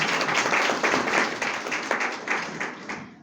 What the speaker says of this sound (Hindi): ताली बजानी पड़ेगी सर के लिए